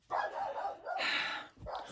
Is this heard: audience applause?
no